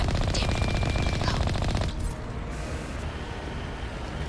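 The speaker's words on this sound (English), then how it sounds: "Oh, they like their turret." Enemy turret in Mass Effect firing a sustained, dense burst of rapid automatic shots, loud and close, that cuts off about halfway through and leaves a quieter rumbling battle ambience.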